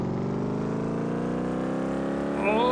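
A simulated car engine in Car Mechanic Simulator 2018 idles and climbs steadily in pitch on a test track, a smooth rising hum that swells into a louder rev at the end.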